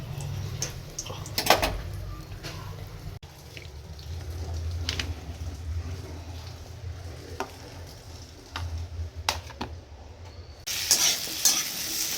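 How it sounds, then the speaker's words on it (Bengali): Eggplant slices and green chillies fry in a pan with a steady low sizzle, broken by occasional sharp clinks and scrapes of stirring, close up and with no talk. "আজকে ব্রেকফাস্টে বানাচ্ছি রুটি আর তার সাথে বেগুন ভাজা আর এখানে দুটো কাঁচা লঙ্কাও ভেজে নিচ্ছি"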